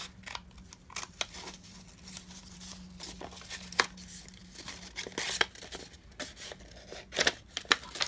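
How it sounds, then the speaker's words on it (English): Scissors cut a paper strip for a scrap-paper embellishment, a series of close, sharp snips and crisp paper rustles at an irregular pace, with no talking. "I'm going to go ahead and cut this stripe here"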